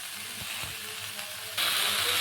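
Chalta (elephant apple) pickle is stirred with jaggery in a hot pan. A steady sizzling hiss carries a few soft thuds from the spoon, and the sizzle grows suddenly louder near the end.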